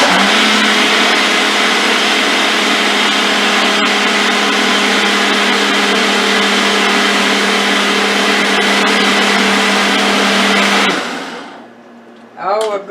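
A Ninja blender on its frozen-drink setting roars loud and close, churning a frozen fruit smoothie with orange juice for about eleven seconds. The motor then cuts out and a short burst of voice follows.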